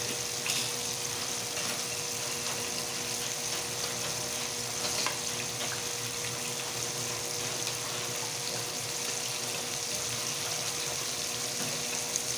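Curd prawns in a pan with cumin, chilli and coriander powder being stirred in, giving a steady, soft sizzle and frying hiss throughout with faint stirring scrapes and no talking.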